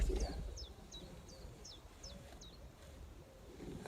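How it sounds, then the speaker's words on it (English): Small birds sing close by along a river, a repeated series of sharp descending chirps in a steady rhythm over soft outdoor background noise. "there's nothing better than birds singing"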